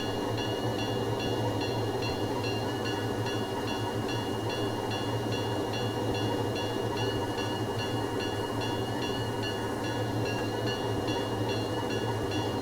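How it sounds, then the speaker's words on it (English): An Erie Lackawanna C424 diesel locomotive in Train Simulator Classic rings its bell in a steady, repeating clang over a constant low diesel engine rumble, the rhythmic strikes continuing evenly throughout. "Bell actually rings."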